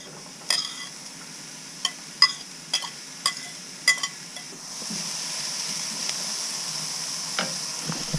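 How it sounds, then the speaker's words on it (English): Onions and peppers frying in a pan, a soft steady sizzle with a few sharp clinks and stirring scrapes early on, then a brighter continuous hiss from the second half onward. "I've got the onions in the pan and I'm just going to add some peppers"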